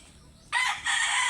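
A talisayin rooster crows loudly nearby, a bright sustained call breaking in two parts, against a quiet background.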